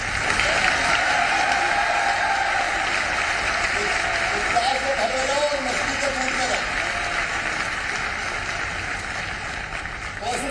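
Sustained audience applause at an Auto Show 2022 event in Indore during a chief minister's address, a dense steady wash of clapping that holds at full strength for about ten seconds with crowd noise underneath.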